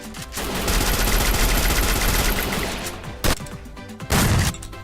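Rapid bursts of automatic gunfire in a squad shooter game, a dense sustained volley followed by a few sharp separate shots, loud and close, with no talking over it.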